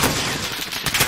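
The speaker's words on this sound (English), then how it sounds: "How about I just shoot the ATV?" Gunfire aimed at an ATV in Call of Duty: Warzone rattles out as a short, loud burst of rapid shots, close and harsh, lasting about a second.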